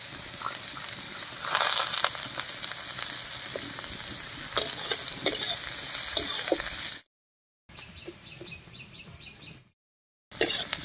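Ginger and garlic fry with onions in a hot pan for an egg curry, a dense continuous sizzle with stirring scrapes. There are two brief total dropouts near the end.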